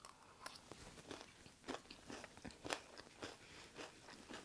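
Crisp, close bites and chewing on a matcha green tea Pocky cake with crunchy Pocky sticks around the outside, strawberry filling and Swiss buttercream, a quiet run of repeated crunches with no talking.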